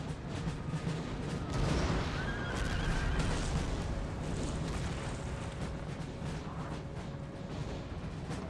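A horse whinnies in the video game Napoleon: Total War amid a continuous rumble of battle noise, with distant booms and clatter running underneath.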